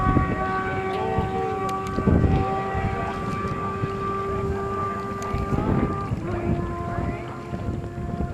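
A racing motorcycle engine screams at high revs on the Bonneville salt flats, its pitch climbing and dropping through gear changes as it pulls away.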